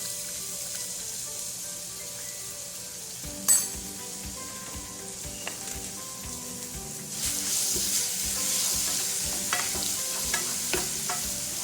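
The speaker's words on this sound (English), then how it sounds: "I'm adding my garlic" Garlic sizzles in a pan for shrimp macaroni salad, a steady frying hiss broken by stirring scrapes that grow louder partway through, with one sharp clatter near the start.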